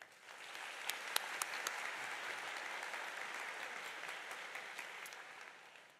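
A commencement ceremony audience applauds to welcome the stage party, steady clapping from a large crowd heard from some distance, sustained for several seconds before tapering off.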